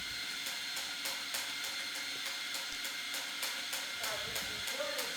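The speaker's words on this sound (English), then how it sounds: "We're grinding up the coffee." Electric coffee grinder grinding beans behind a café counter while drinks such as cold brew, americanos and lattes are made, a steady loud whirring hiss with small rhythmic pulses lasting throughout.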